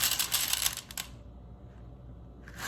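Coffee beans poured onto a kitchen scale, a quick dense rattling patter for about a second that stops abruptly, then near quiet with faint room noise.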